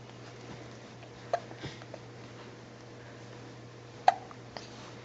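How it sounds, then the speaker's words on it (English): A tiny pet turtle gives a few faint, sharp hiccups at irregular spacing, with one stronger click-like hiccup near the end, set against a steady low room hum. "got the hiccups?"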